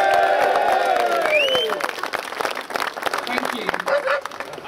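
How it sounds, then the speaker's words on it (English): Rally crowd in Rotherham applauding and cheering loudly at an outdoor political event, with whistles and shouts over the clapping that thins toward the end as a voice begins to speak. "Big round of applause."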